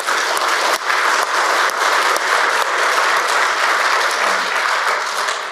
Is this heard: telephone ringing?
no